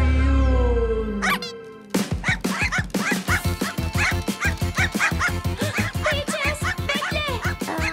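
Dogs bark in quick, repeated bursts, close and loud, a steady run of yips and barks that follows a brief, quieter stretch of other sound.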